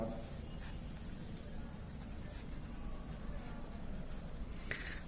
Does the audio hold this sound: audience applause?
no